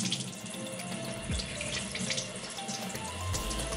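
Shrimp are rinsed under a running kitchen tap in a sink, with a steady rush of water splashing over them close by and no voices.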